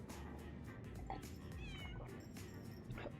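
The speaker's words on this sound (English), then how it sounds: "Those meows." A cat meows repeatedly inside a video game's DLC, several short plaintive calls at close range over a busy background of game ambience and music.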